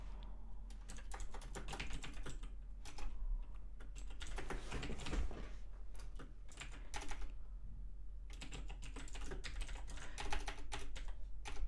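Answers being typed on a computer keyboard: bursts of rapid, close key clicks with brief pauses between runs, no talking.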